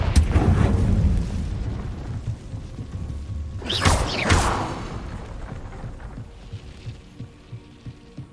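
A Confringo blasting spell explodes in Hogwarts Legacy: a loud rumbling blast opens, then a second sweeping burst follows midway, and soft rhythmic thumps pulse steadily in the quieter tail.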